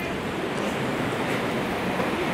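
Ocean surf at a beach where people are trying to surf, a constant soft hiss of breaking waves, fairly faint and steady with no voices.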